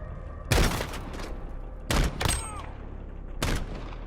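Gunfire in Call of Duty: Modern Warfare, with four or five loud, sharp shots spaced unevenly, two close together near the middle, over a low steady background rumble.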